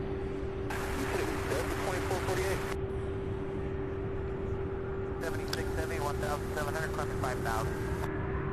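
UPS MD-11 aircraft preparing to take off at Louisville International Airport, a steady distant engine drone under a voice speaking in bursts.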